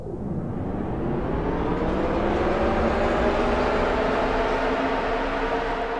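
Takeoff, an upper preset on the Sonic Faction Whoosh Machine synth: a broad roaring whoosh with faint tones gliding gradually upward, sustained and loud for six seconds without any voices.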